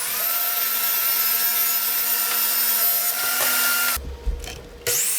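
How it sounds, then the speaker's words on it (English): A power saw cuts through plywood pieces with a continuous bright whining rasp for about four seconds, then stops abruptly, leaving brief clunks and handling noise. "So I cut those two pieces of plywood out"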